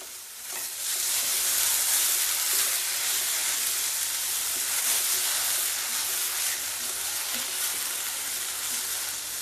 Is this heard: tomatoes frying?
yes